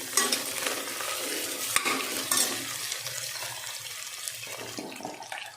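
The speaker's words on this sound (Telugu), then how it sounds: "అండ్ అలాగే పచ్చిమిర్చి, కొంచెం కరివేపాకు. సో మిక్స్ చేసుకుందాం." Green chillies and curry leaves stirred in a frying pan, a soft scraping and sizzling close by, busier at first with a couple of sharper knocks, then settling quieter; no one speaks.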